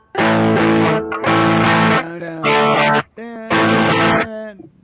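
Loud distorted electric guitar strums a thick, heavy power chord with a fifth below the root several times, each hit ringing briefly before the next.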